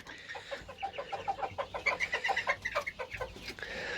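A rooster clucks in a backyard coop, a busy run of short, chattering clucks rising and falling over four seconds, close by and fairly soft, with no voices.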